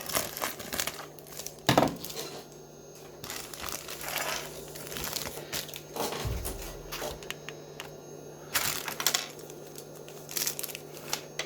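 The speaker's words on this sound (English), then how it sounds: "Open up this bag." A plastic bag of Playmobil toy parts crinkles and rustles as it is opened, with scattered sharp crackles and small knocks from the pieces inside, close and fairly quiet.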